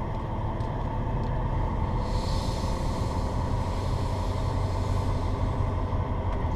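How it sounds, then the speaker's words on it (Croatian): A truck engine runs nearby with a steady, loud, low rumble and a dense mechanical drone that keeps up without a break. Nobody speaks. "ima da i zavolim ovaj kamion"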